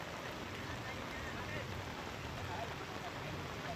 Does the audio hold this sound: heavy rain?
yes